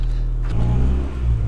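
A Honda Integra DC2 engine runs roughly on its first drive after sitting abandoned, a loud, steady, low rumble that swells as it revs slightly, close and continuous throughout.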